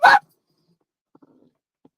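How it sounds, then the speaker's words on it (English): A single sharp dog bark up close, followed by a few faint soft whimpers and a small sound near the end. "Stop barking at me."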